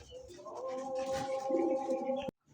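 Close, low cooing from high flyer giribaz pigeons, a sustained throaty warble with layered tones that swells midway and cuts off abruptly.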